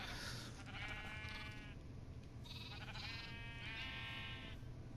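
Sheep in the Minecraft video game bleat repeatedly in high, wavering cries, several overlapping, over a steady low background hum.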